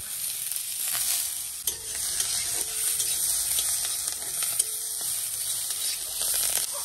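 Chopped tomatoes sizzling in a hot frying pan with onion and five-spice, a steady hissing crackle with occasional scraping stirs, close and moderately loud with no talk.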